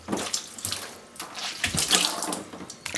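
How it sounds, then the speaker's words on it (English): Running water from a tap splashes steadily while a freezer is rinsed out during cleanup, with broadband hissing and spattering that surges and eases across the span, no voices present. "So that's pretty much how I'm going to be rinsing it, and rinse it all down until I'm done with it."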